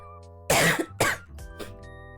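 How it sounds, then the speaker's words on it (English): Two sharp, close coughs, then smaller throat-clearing noises, over a steady background hum. "you're gonna hear coughing and snifflings and things like that"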